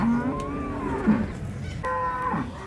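Cattle at the Ashulia livestock market in Savar, Dhaka, moo twice in long, drawn-out calls, one after the other, close by, with a low crowd murmur beneath.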